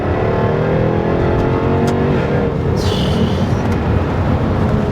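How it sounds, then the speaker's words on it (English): A Jaguar F-Type V8 R with a 550 bhp V8 roars hard under a third-gear pull, loud and close, its exhaust note climbing continuously with a brief high whine partway through and no talking. "You get a bit of tone from the exhaust"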